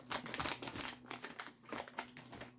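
Scissors cut through the plastic packaging of a coco fiber reptile substrate block, making rapid crinkling, crackling snips close by and fairly quiet, with no talking.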